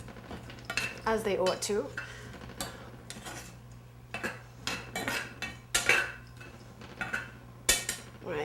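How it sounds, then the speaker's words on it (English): Nuts being stirred in a pan while making biscotti give sharp, irregular metallic scrapes and clinks of a utensil against the pan, close and moderately loud, with a brief spoken phrase near the start. "we just give the nuts a quick stir"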